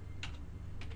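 Two separate key clicks from a lab computer keyboard, short and close, about half a second apart over a low steady room hum.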